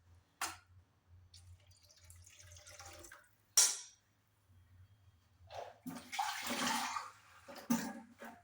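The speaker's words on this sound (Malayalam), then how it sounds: "ഇനി നമുക്ക് ആവശ്യാനുസരിച്ച് കുറച്ച് വെള്ളം ചേർത്ത് കൊടുക്കാം." Water is poured into a pot of Kerala-style rasam, a few short splashing and trickling bursts separated by near silence, with a louder pour toward the end.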